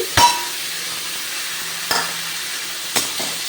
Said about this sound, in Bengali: পেঁয়াজ কুচিটা দিয়ে আরও ভালোভাবে নেড়ে চেড়ে আমি শাকটা ভাজি করে নিচ্ছি